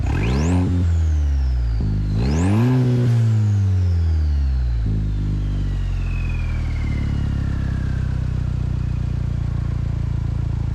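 A Chevrolet Colorado ZR2 turbo four-cylinder with a temporary straight-pipe exhaust revs hard twice, the pitch sweeping up and dropping back, then settles into a loud, steady rumbling idle close by.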